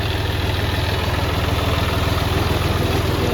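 Steady idling tractor engine near a flooded, washed-out road along the Shivnath river, a continuous low rumbling drone with even pulsing throughout, no talk.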